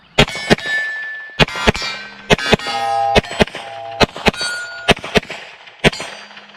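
A Bear Creek Arsenal BC-102 Grizzly rifle fires double taps on a range, with sharp loud cracks arriving mostly in quick pairs and each shot followed by a brief metallic ring.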